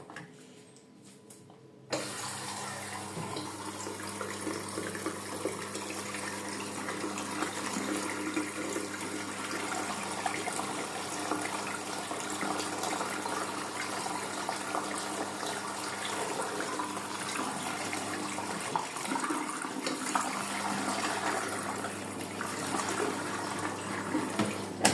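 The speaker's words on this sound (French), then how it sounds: "Et on va la remplir." Hot tap water runs steadily into a container being filled for a homemade detergent and stain test, a continuous close splashing rush that starts after a brief quiet moment and holds for the rest of the clip.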